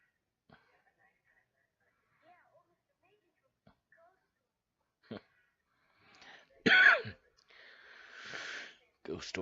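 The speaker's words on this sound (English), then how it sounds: "Sorry for the cough." A man gives a sudden harsh cough up close, one sharp burst with a rough throaty tail, set among faint mouth sounds and quiet speech in an otherwise hushed room.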